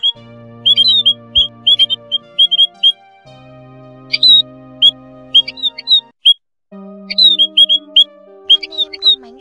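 Recorded call of a white-headed Áo Già bird used as a trapping lure: clear, loud whistled chirps and squawky notes in rapid bursts over steady tonal hums, with a brief pause midway.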